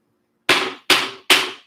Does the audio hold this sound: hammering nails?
yes